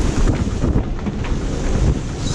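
Strong storm wind in 50-knot gusts roars across a sailboat's microphone, a loud, continuous broadband rush with surging buffets and water noise beneath, no voices.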